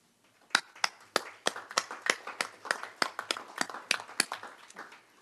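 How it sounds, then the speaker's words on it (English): Scattered handclaps from a small audience at a school board meeting sound fairly quiet and a little distant, each one a crisp, separate snap in a loose, uneven rhythm. "I think it'd be appropriate if we gave applause for that accomplishment"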